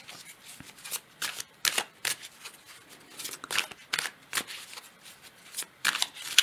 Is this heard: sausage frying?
no